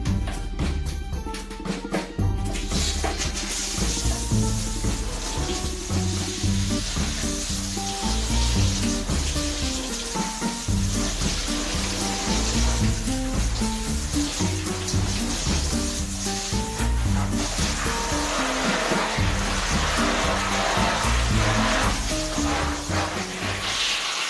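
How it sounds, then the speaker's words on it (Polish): A strong stream of lukewarm water sprays onto an Ensete ventricosum Maurelii plant to rinse off aphids, making a steady, close hissing rush that shifts slightly as the spray moves across the leaves. "Robię lekko ciepłą wodą, no lekko, mocnym strumieniem staram się spłukiwać te wszystkie robale."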